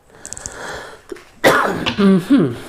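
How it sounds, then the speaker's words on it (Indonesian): A few short throat-clearing sounds, then a harsh, loud cough burst up close, followed by a strained vocal sound. "Maaf ya kalau misalnya agak-agak batuk"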